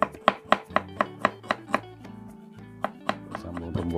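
Garlic cloves and large shallots pounded with a mortar and pestle for a traditional Javanese dish: a steady run of sharp, close thuds about twice a second, pausing briefly midway before resuming, with no talk.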